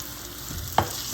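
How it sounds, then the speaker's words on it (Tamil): Marinated chicken frying in a pan for pepper chicken, a brief steady sizzle with a single sharp knock of a utensil partway through. "இப்போ நான் வந்து ஒரு 1/2 hour பிஃபோர் நான் மேரினேட் பண்ண சிக்கனை இதில் சேர்க்குறேன்"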